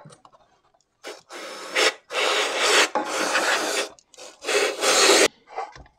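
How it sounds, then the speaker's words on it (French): A hand tool rasps in repeated scraping strokes, deburring the edge of an oil seal groove on a scooter engine part; the strokes are close, loud and uneven in length, separated by brief pauses, with no speech. "Je viens ébavurer l'arête de la gorge du joint spi."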